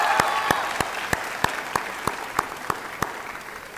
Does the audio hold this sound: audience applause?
yes